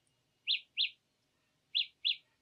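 Four short, bright electronic chirps in two pairs from Galaxy Buds+ earbuds' locator tone, bird-like and clear, separated by a brief pause against near silence.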